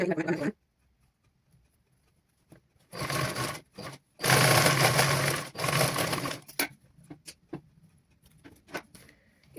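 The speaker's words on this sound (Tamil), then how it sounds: "இந்த பகுதியை நாங்கள் அதாவது உள்பகுதியாக நாங்கள் தைச்சு முடிஞ்சது" Sewing machine stitching a child's petticoat at a tailoring class: bursts of close, steady whirring, the longest in the middle, separated by short pauses and a few quick starts and stops.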